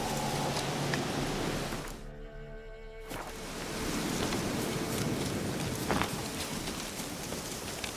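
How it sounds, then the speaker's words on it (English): Rain falling in The Witcher 3, a steady hiss of downpour across the scene with a brief gap where the wash thins before resuming, faint and even, with no talk. "Looks like rain."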